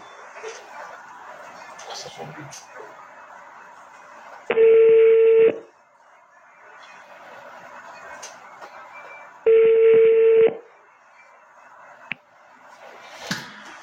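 A telephone redials a call: two loud, steady electronic tones, each lasting about a second, sound several seconds apart, with faint background noise and brief handling sounds in the gaps.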